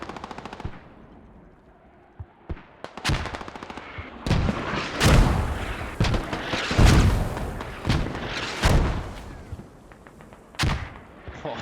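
Mortar fire in a tactical shooter game: a long run of heavy booming impacts and bursts of rapid gunfire, loud and close, in uneven clusters over several seconds.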